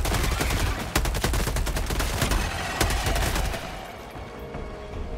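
Rapid submachine gun fire in the video game Helldivers 2, dense bursts of sharp close shots with a couple of louder cracks, easing to quieter, sparser shots near the end.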